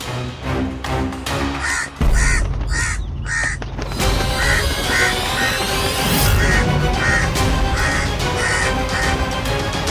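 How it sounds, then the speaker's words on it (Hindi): Crows caw loudly in repeated harsh calls, a rapid series of close caws over a dense, noisy background that continues for the whole stretch. "कौवा"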